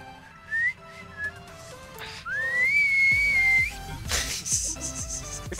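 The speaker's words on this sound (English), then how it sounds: "That is like the worst whistling ever." Bad, wavering whistling with a few short sliding notes, then a longer held, wobbling tone, loud and close over faint game sounds.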